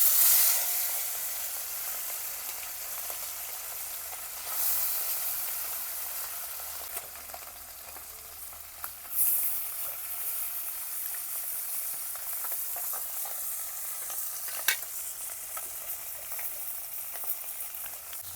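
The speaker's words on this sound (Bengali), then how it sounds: "তেল গরম হয়ে গিয়েছে, এখন মাছগুলো দিয়ে দেব।" Small mixed river fish, salted and coated with turmeric, fry in hot oil in a wok, giving a steady hissing sizzle throughout with occasional louder spits and crackles, close and without talk.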